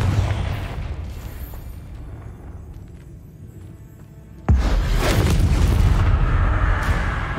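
A Confringo blasting spell explodes in Hogwarts Legacy, a sudden loud boom breaking in after a fading rumble, followed by a sustained roaring burst of debris and fire.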